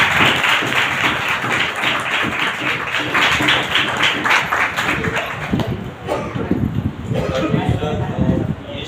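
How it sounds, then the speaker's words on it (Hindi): A congregation at a healing and deliverance church meeting claps loudly and rhythmically for a sustained stretch, with voices and rustling mixed in and the clapping thinning briefly near the end. "ये एक बार फिर से परमेश्वर के लिए जोरदार तालियां बजाएं।"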